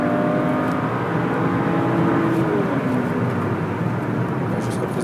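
A BMW 335i engine revs as the car accelerates along a wet road, a steady droning hum with rising whine sweeps heard from inside the car, with voices talking over it.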